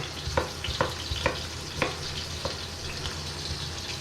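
Potato and carrot chunks going into a pan of frying picadillo, with a steady loud sizzle and a series of sharp scraping, stirring knocks from a utensil against the pan at irregular intervals.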